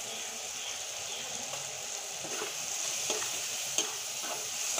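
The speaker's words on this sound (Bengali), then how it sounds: "আমি সুন্দর করে আর একটু কষিয়ে নেব।" Potato and tomato frying with spices in a pan, a soft steady sizzle with occasional stirring scrapes and a light tap, fairly faint and close, no voices.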